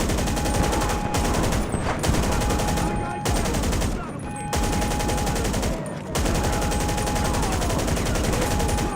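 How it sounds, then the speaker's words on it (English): Rapid automatic gunfire in GTA 5 Online empties a full magazine, loud and continuous in long bursts broken by brief pauses, with a voice faintly underneath. "Mag dump."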